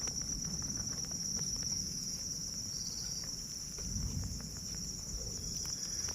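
Crickets 27 days old, raised in a breeding box, keep up a steady high-pitched chirring drone, faint and continuous, with light scratchy rustles beneath and no voices.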